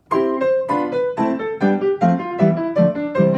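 A piano plays broken octaves stepping downward, each low and high note struck in quick alternation, clear and close, with no talking.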